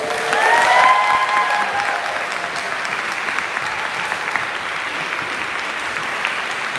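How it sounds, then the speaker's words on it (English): An audience at a book awards ceremony applauds honorees, a dense burst of clapping that swells at the start and then settles into steady, sustained applause filling the room. "can we please give a huge round of applause?"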